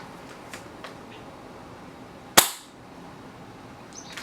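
A single sharp shot from an Echo1 ASR airsoft sniper rifle cracks out during outdoor shooting. It is close and loud against faint background noise, with a short decaying tail.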